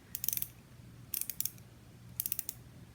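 Three quick bursts of ratchet clicking from a low-profile ratcheting tool used to remove parts of a Ricoma embroidery machine sash frame, each burst a rapid run of sharp close clicks, alone with no talk.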